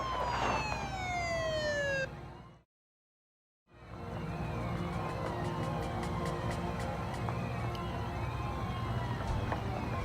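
A Seattle police car siren wails continuously as it approaches, with sweeping tones and a loud horn-like blare, cutting out briefly for about a second before resuming over road noise.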